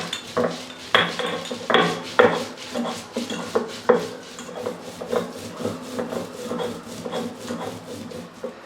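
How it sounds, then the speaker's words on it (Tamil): Green chillies and coriander leaves are pounded coarsely, a loud close series of rhythmic thuds and grinding scrapes, about two strikes a second, with no talk. "பச்சை மிளகாய், கொத்தமல்லி இலையெல்லாம் இது போல் கரகரப்பாக இடித்து எடுத்துட்டோம்"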